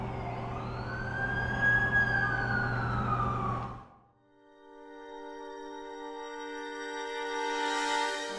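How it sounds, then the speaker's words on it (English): An ambulance siren from The Amazing Spider-Man 2 video game wails loudly in a long rising and falling sweep, cuts out briefly, then returns as a steady electronic tone that builds again. "That's the ambulance I called."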